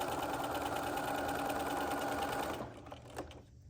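Sewing machine stitching fabric for a cross stitch pillow with binding, running in a fast, steady whir close by, then stopping abruptly into a few faint handling clicks.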